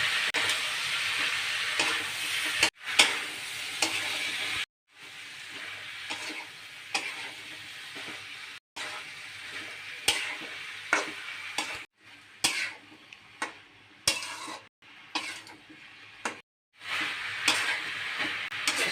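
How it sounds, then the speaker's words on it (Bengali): Boiled raw potatoes fry in an oily spice masala for a green jackfruit and prawn curry, with bursts of loud close sizzling and scraping stirs cut by brief silences. No voices. "এখন আমি দিয়ে দেব আলু দিয়ে দেব সিদ্ধ করা কাঁচা এখন আমি কিছুক্ষণ কষিয়ে নেব"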